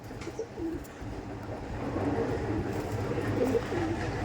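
Pakistani teddy pigeons cooing softly in a loft, low repeated coos under steady background rumble, fairly faint.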